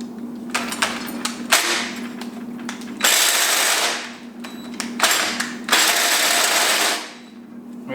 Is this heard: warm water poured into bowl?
no